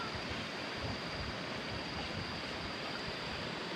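Rainy-season water rushing through rural Laos, a dense, continuous roar of flowing water, steady and fairly loud with no breaks and no talking.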